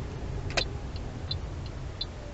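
Faint regular ticking of a car's turn signal indicator, about four clicks at a steady pace over a quiet low engine hum inside an automatic car.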